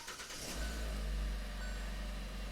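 A Hyundai Tucson engine fires up with the push-button start, a quick cranking catch that settles into a steady low idle rumble close by, with no talk over it.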